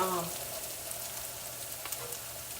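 Mexican rice browns in a frying pan, a steady close sizzle with faint stirring scrapes, continuous and even throughout.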